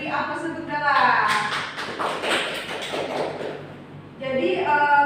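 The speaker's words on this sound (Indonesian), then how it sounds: "Beri aplaus untuk Dala." Classroom applause during a micro-teaching lesson: a dense burst of many hands clapping for a few seconds, with a teacher speaking just before and right after.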